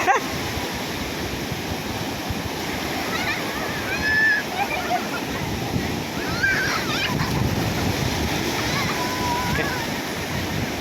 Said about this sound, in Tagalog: There's the waves coming!